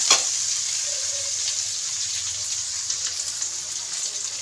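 Capsicum, onion and curry leaves frying in a home kitchen pan, giving a steady, fairly close sizzle for the whole stretch, with no talking.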